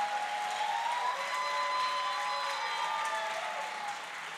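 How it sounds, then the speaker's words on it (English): Audience applause at a gala dinner, a steady wash of clapping that holds at a moderate level for several seconds and thins slightly toward the end. "Let's give him a round of applause."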